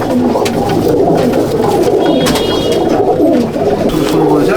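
A loft of Murshidabad pigeons gives off dense, continuous cooing, many birds calling at once close up, with a brief spoken phrase in the middle.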